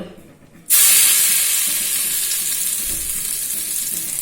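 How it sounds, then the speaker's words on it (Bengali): Cumin seeds, bay leaf and crushed cinnamon hit hot mustard oil left from frying aar fish, bursting into a loud sudden hiss that settles into a steady close sizzle. "গরম তেলে জিরে, তেজপাতা আর থেতো করা দারচিনি ফোড়ন দিয়ে দিল"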